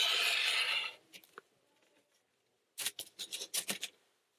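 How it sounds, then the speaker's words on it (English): Scissors snip through quilting fabric between two stitched lines to cut a half square triangle apart, a soft rustle first, then a quick series of close crisp cuts. "Cut between the 2 lines of stitching on the line that was drawn."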